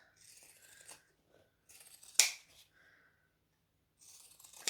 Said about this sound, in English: Again with the zigzag scissors.